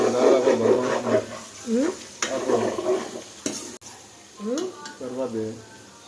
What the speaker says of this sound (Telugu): ఇట్లా ఉన్నప్పుడు వెంట వెంటనే కలుపుతూ ఉండాలి లేకపోతే కళాయి అడగట్టుపోయి ఆయిల్ మాడిపోయిన వాసన వస్తుంది